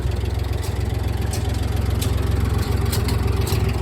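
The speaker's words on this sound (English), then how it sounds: "now I'll show you how this PTO comes on" Steady tractor engine idling loud and close with a deep, even low rumble, its PTO being switched on for hay mowing, the drone continuing unbroken throughout with no voices.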